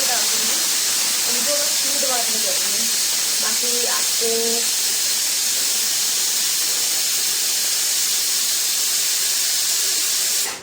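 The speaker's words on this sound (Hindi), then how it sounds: "कुकर की विसल की आवाज़ आ रही होगी" A pressure cooker in a home kitchen, cooking pulao with dal, vents steam in a loud, continuous hissing whistle for the whole stretch, while someone talks briefly near the start.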